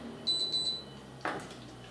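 A short high electronic beep from a Zavor Lux multicooker pulses a few times, then a softer broadband click follows; quiet room tone, no talking.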